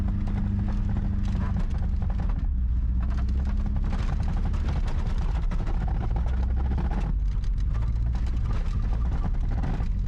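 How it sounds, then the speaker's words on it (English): An old abandoned Rolls Royce rolls down a road, heard as a loud, constant low rumble with dense knocking and rattling textures and no pauses. "This abandoned Rolls Royce is actually rolling down the road."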